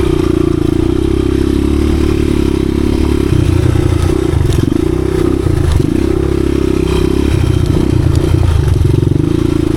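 A 1986 Honda XR200R dirt bike is ridden after its idle problem was fixed, its single-cylinder engine droning steadily and loudly up close with shifts in pitch, plus clatter and scraping from the ride.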